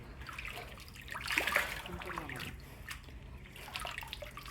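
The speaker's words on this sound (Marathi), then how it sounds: "तर हा पित नाही, तोंडावर मारतोय" Cold water from a man-made rock-cut tank on the Irshalgad trek, scooped and splashed onto a face, heard as faint wet splashes and trickles over quiet outdoor background.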